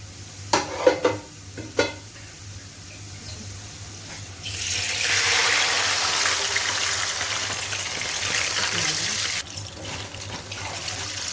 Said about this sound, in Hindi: अब यहाँ मैं इसमें यखनी जो है वो ऐड करूँगी